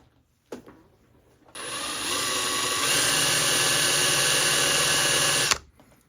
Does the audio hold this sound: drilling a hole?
yes